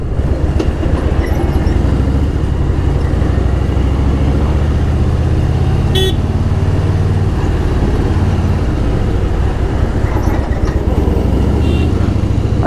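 Motorcycle ridden along a road with tyres pumped tight, a loud, steady engine drone and wind rumble continuing throughout, with a brief click or rattle partway through.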